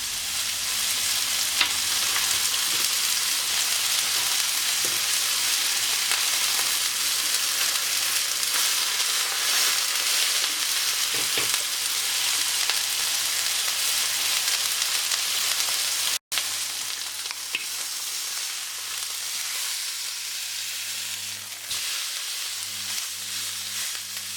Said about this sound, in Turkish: Evet öncelikle dana bonfilemizi mühürlüyoruz